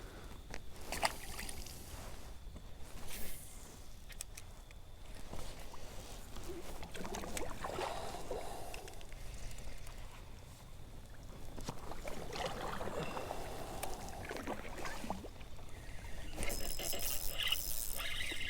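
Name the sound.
paddling a kayak on a river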